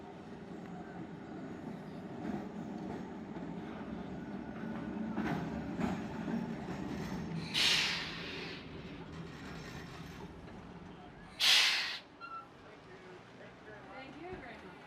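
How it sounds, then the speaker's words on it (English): A 1926 Class X1 Melbourne tram runs along the Auckland Dockline, its steady rolling rumble carrying two brief bright squeals or bell-like bursts, while a voice talks over it. "This is a Class X1 tram from Melbourne, Australia, built way back in 1926."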